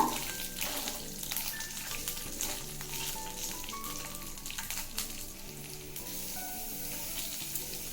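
Cumin seeds and green chillies frying in oil for a ridge gourd coconut chutney, a steady soft sizzle with faint crackles and pops throughout, fairly quiet and without talk.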